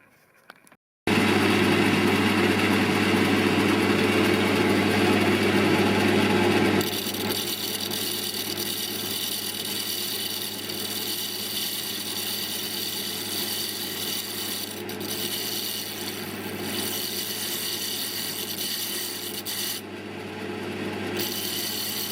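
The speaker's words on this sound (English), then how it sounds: "Just truing the wheel up a bit." A grinder wheel is trued in a workshop during regrinding of a milling cutter, giving a loud continuous abrasive rasp with a steady motor hum that drops slightly in pitch partway through and runs without pause.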